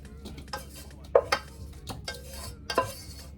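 Close metal scrapes and knocks as Jamaican jerk shrimp are lifted out of a cooking pot, a handful of clanks against soft stirring noise, no voices.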